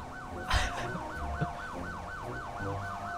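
A police siren in the video game GTA 5 wails, sweeping up and down in a steady, repeating cycle, with a brief burst of louder noise and engine rumble near the start.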